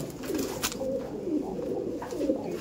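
Kabji pigeons cooing in a loft, several soft throaty coos repeating close by in a steady rhythm, with brief clicks and rustles between them.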